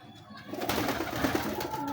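Pigeons coo nearby in a home loft, a short soft throaty burble rising after a brief quiet start and carrying on alone to the end.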